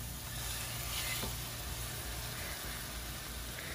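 Salmon fillets fry in oil in a hot pan over medium heat, giving a steady, soft hiss and crackle of sizzling that continues without pause.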